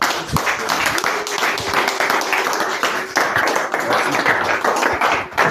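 A church congregation claps loudly and continuously in acclamation of the Lord, a dense close wash of many hands with a voice faintly heard beneath.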